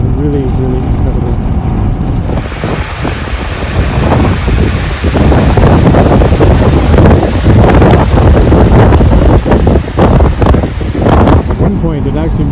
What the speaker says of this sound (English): It's so windy, it's incredible.